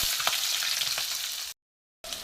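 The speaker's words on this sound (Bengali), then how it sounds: "কাঁচা লঙ্কাটা একটু ভালো করে ভেজে নেব।" Garlic and green chili frying in plenty of oil with black cumin seeds, a steady bright sizzle with a few crackling pops, close and continuous before cutting to silence for half a second and resuming.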